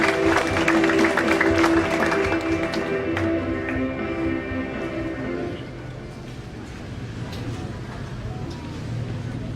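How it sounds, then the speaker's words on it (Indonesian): Applause for the vice governor of East Nusa Tenggara at a cooperative building inauguration, a crowd clapping loudly at first and then thinning out, with a voice speaking over it. "Tepuk tangan dulu untuk Bapak Wakil Gubernur."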